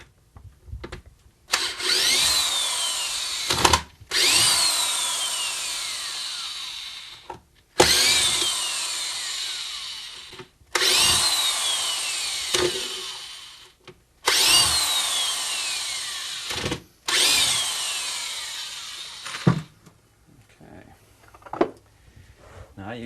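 Power drill backing screws out of a nice piece of wood on a workbench, heard as several loud whirring bursts of a few seconds each separated by short pauses, with light handling noise at the end.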